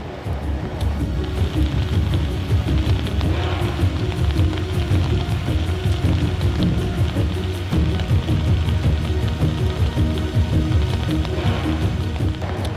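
Steady rain falls on a railway track construction site between Stuttgart and Ulm during thermite rail welding, a loud, dense, even hiss and patter that goes on without a break.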